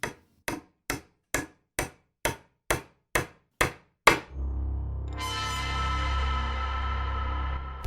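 A hammer in a dark gothic horror drama, nine steady evenly spaced blows ringing with a slight echo, followed by a low droning rumble that swells and holds.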